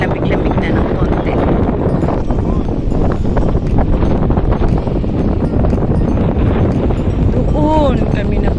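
Steady wind roaring across the microphone, with constant broadband rumble and gusty buffeting throughout, loud and close.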